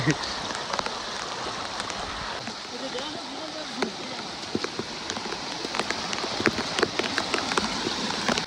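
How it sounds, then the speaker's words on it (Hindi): Heavy rain pattering densely and continuously, loud and close, with scattered sharper drops standing out against the wash. "तो गाइस बारिश काफ़ी तेज़ हो रखी है यहाँ पे"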